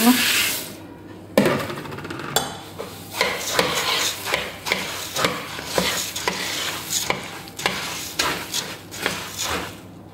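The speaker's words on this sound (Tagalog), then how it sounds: "brown rice syrup, at ito yung tahini. I-melt natin siya sa fire. Pagkatapos i-mix natin to." Brown rice syrup and tahini are stirred together in a pan over heat, giving repeated scraping, knocking strokes in a steady rhythm with a faint sizzle underneath, close and fairly loud.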